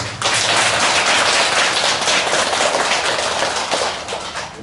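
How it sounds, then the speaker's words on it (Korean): Audience applause at a Buddha's Birthday ceremony, dense continuous clapping from many hands that holds loud and steady before easing slightly at the end. "이 박수 소리처럼"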